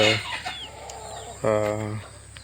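Native country chickens give a couple of close, clucking calls, the second a longer harmonic squawk, over a faint outdoor background.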